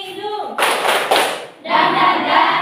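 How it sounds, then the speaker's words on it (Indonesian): A group claps a rhythmic cheer as an ice-breaker. Two loud bursts of clapping come close together. A brief spoken cue comes just before them. "Tepuk semangat dari hidung ya."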